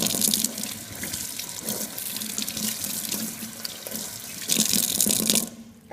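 Warm tap water runs steadily over hands being rinsed at a sink, a close, continuous splashing stream that swells louder near the end before cutting off.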